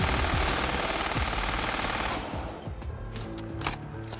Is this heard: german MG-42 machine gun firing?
yes